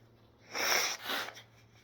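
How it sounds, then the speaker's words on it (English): A nose is blown in two quick bursts, the first longer and louder, the second shorter, with a faint steady hum underneath. "hang on, I'll blow my nose"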